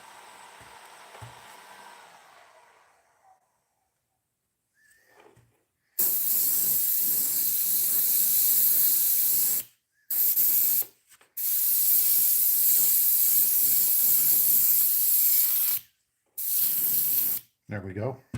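Airbrush spraying paint onto a musky crankbait lure, a steady loud hiss in several long bursts with short pauses between them, after a quieter opening.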